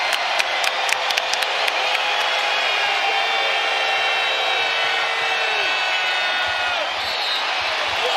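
A basketball arena crowd roars and cheers loudly and steadily during an NBA game between the Boston Celtics and Oklahoma City Thunder, with sneaker squeaks and scattered claps over the din.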